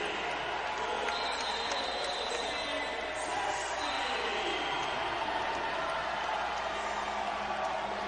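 A packed basketball arena crowd at a college game, Austin Peay against Stetson, gives off a steady, dense roar that lasts throughout, with murmurs and cheering spread evenly and faint sneaker and ball sounds in the mix.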